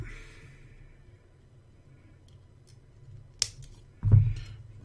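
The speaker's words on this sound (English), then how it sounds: "So I'll get myself enough wire, give it a snip." A single sharp snip of 24 gauge kanthal wire being cut with wire cutters for a dual-coil rebuildable dripper build, a brief crisp click over a quiet room, followed by a soft handling thump.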